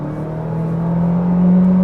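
A 2025 Honda Civic Sport accelerating hard from the driver's seat, with the engine note rising steadily in pitch and loudness over about two seconds, loud and close, with no talking.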